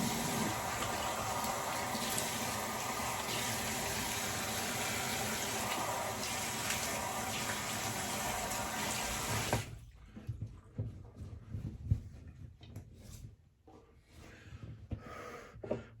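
Tap water runs steadily into a sink for about ten seconds while a straight razor user rinses after a shave, then stops, leaving scattered drips, splashes and handling noises.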